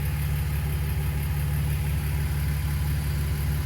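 A BMW E46 engine idles after a ZF 5HP19 automatic transmission service, a loud, steady, close rumbling hum that holds unchanged the whole time with no voices.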